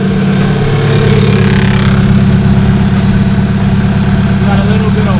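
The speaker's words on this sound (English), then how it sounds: "I have the car idling for a little bit" A turbocharged Honda H23A engine in a sixth-generation Accord idles steadily on its first start, a constant loud drone with a low rumble throughout and no breaks.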